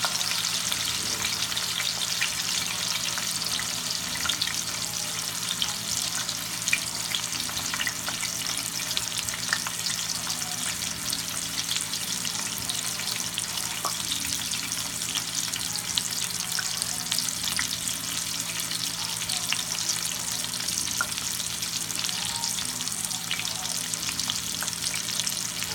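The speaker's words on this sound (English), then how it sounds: "You sear the other side." Pot roast meat sears in a hot pan with a steady, close sizzle and frying hiss that continues evenly throughout, with no talking.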